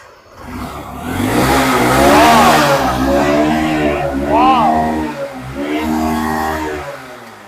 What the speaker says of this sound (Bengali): চলো সাইনটা স্টার্ট করে দিই দেখুন